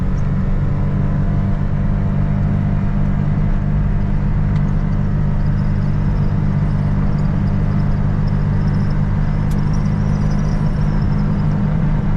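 A John Deere 7800 tractor drives at speed, a steady loud engine drone and road rumble holding constant throughout with no talk.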